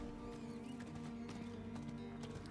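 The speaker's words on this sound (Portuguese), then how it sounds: "Cavalo." Horse hooves clip-clopping in the action RPG Diablo 4, heard as a fast, even run of hoof taps under quiet game music and ambience.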